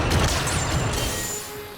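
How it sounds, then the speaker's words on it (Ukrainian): Loud bursts of explosions and rapid gunfire crash together in a chaotic Star Wars Battlefront II battle, fading slightly toward the end. "Вибухи страшні якісь відбуваються."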